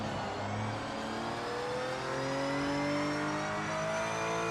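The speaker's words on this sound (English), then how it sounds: "I feel like I'm hitting the brake and my car isn't slowing down" A racing car engine in the video game Project Motor Racing holds a steady, rising drone with climbing harmonic tones, a continuous close engine note with no voices.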